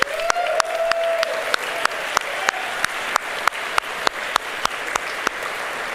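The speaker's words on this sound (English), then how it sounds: "Let's give them another round of applause" Steady, evenly spaced claps ring out for practical nursing graduates at a Madison College ceremony, moderately loud and regular throughout, with a faint sustained tone at the start.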